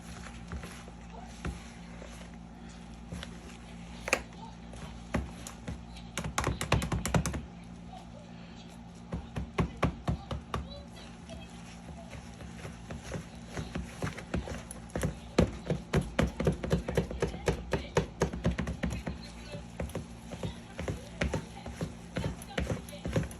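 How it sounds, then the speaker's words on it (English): Banana bread batter made from pancake mix gets whisked in a bowl, producing quick, irregular clicking taps that speed into dense rhythmic bursts, close and fairly loud throughout. "we're going to give it a whisk"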